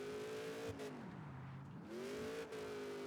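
A race car engine in the Wilder World racing video game holds full throttle, its loud, steady whine dipping in pitch mid-clip and then climbing back up as it revs again.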